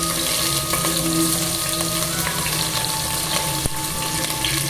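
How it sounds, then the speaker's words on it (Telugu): Onions and green chillies fry in a pan for mushroom biryani, a steady dense sizzle with bubbling oil running throughout, close and fairly loud, with a couple of faint clicks. "ఈ ఆనియన్స్, పచ్చిమిర్చి వేసేసుకుంటున్నాను."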